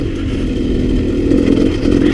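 A KTM 200 XC two-stroke dirt bike engine runs loud and close, a steady buzzing drone that swells slightly as it revs toward the end.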